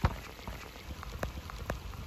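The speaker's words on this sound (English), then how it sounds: "It's raining right now" Rain falls steadily in the Everglades, a soft continuous patter of drops with a few slightly sharper splashes, heard close and fairly faint with no talking.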